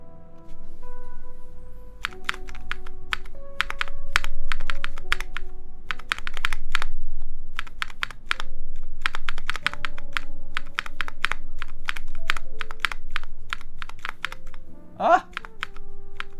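Typing on a Keycult 2/65 mechanical keyboard produces crisp, close key clacks in quick irregular bursts with short pauses, and a voice speaks briefly near the end.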